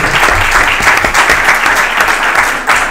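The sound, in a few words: audience applause after a conference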